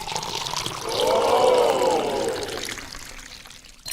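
Cooling liquid pours into a plastic bottle that serves as a water tank on a LEGO fire train, a steady glugging stream rising in pitch as the bottle fills, then trailing off.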